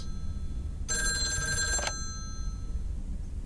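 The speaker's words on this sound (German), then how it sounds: "Telefon klingelt." A telephone bell rings in a quiet home on a Monday evening in a narrative game, one bright, metallic ring lasting about a second over a low background hum.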